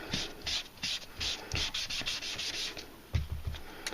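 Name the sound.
rubbing ink along the grain of a card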